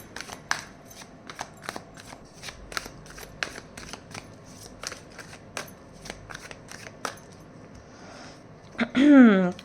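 Tarot cards being shuffled and drawn by hand, with a long series of crisp close snaps and riffles, then a short swish at the end; no talking over the card sounds.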